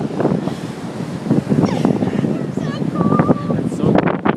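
Strong wind on a sandy beach roars and buffets the microphone in a constant loud rush, with a person talking over it throughout.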